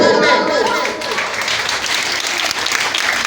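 Audience applause fills a school's Pakistan Day celebration, loud and dense at first and then thinning to scattered clapping, with voices mixed in underneath.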